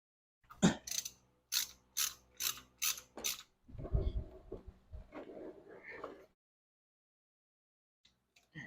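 A ratchet with a 17mm socket breaks loose the oil drain bolt in the center of the crankcase on a Kawasaki Vulcan 750 motorcycle: about six sharp, rhythmic clicking strokes up close, then a duller, lower rattling and turning, and then quiet.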